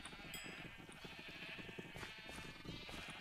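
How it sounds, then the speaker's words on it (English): Sheep and lambs bleating in the video game Minecraft, several faint overlapping calls against a dense, noisy background with no clear separation between voices. "I hear all the little lambs coming up"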